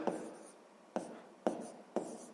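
Pen strokes while writing out a sixth-grade maths solution, four short scratchy bursts in a fairly even rhythm, close and quiet, with no talking over them.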